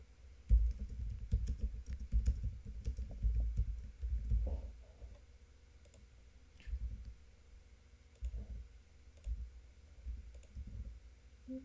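Typing on a computer keyboard, bursts of close, soft key clicks separated by short pauses, with no talk.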